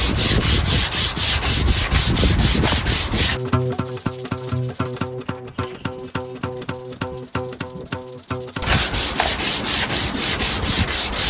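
A car headlight lens is hand-sanded with 180-grit paper to strip old yellowed coating, giving loud, close, rhythmic back-and-forth scrubbing strokes with a harsher stretch at the start and end.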